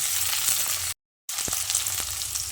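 Two medium-sized chopped tomatoes hit a hot frying pan for a vegetarian potato and papaya curry, giving a steady close sizzle that cuts out to silence briefly, then resumes with soft stirring clicks.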